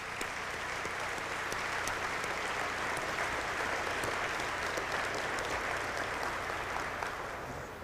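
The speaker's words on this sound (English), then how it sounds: "A round of applause for that excellent band from New Orleans." Sustained audience applause for a band from New Orleans at a 1997 naval aviation symposium, a dense, steady clapping crowd filling the whole stretch at an even level.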